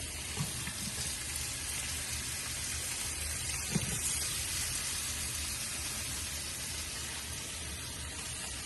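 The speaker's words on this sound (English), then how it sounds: "And show you that I'm searing the meat in here." Beef searing in olive oil inside a crockpot on its sear setting, a steady broadband sizzle that holds at an even level throughout, close and continuous with no talking.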